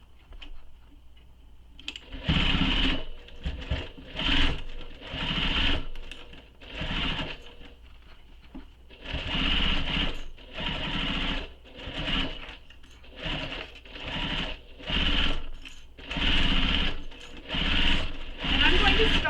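Sewing machine base stitching around the edges of a satchel's fabric pieces, running in repeated bursts of steady mechanical whirring with short pauses between, close and fairly loud, with a voice talking over parts of it.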